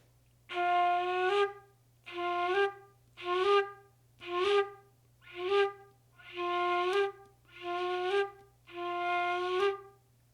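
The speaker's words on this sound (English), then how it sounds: "You remove your finger gradually from the hole to go to the next note up." Eight short, breathy Irish flute phrases separated by brief pauses, each pitch gliding smoothly upward into the next note by gradually uncovering a hole, played alone over a faint low hum.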